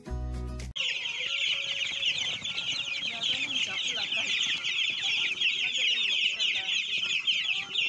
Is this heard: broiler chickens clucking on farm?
yes